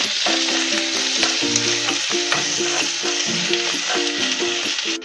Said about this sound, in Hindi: अब इसमें हम कैप्सिकम डालेंगे और इसको भी सॉटे कर लेंगे।